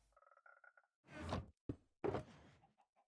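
A frog in the Minecraft video game gives a short series of low, pulsing croaks, followed by a few brief thuds and knocks close by.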